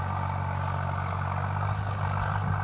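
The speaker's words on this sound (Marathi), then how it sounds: "ट्रॅक्टर चालू आहे तिथं," A tractor engine running in a field, a steady low idling drone heard at moderate distance, constant and unbroken for the short stretch.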